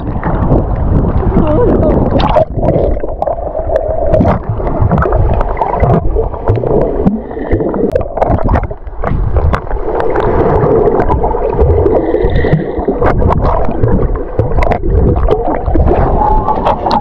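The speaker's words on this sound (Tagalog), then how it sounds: "Lakas na alon!" Rough sea waves slap and churn against a small boat on a trip around Boracay, loud and continuous with heavy wind buffeting, and voices talking over the noise.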